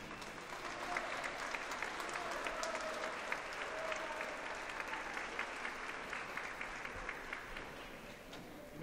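Steady, sustained applause from a large audience at a high school graduation ceremony, dense clapping filling the hall evenly from start to finish with no voices standing out.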